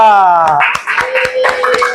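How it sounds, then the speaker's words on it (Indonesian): A classroom of students claps for a student group, with a few crisp, separate claps following a sustained spoken or sung tone at the start. "Beri tepuk tangan untuk kelompok 3."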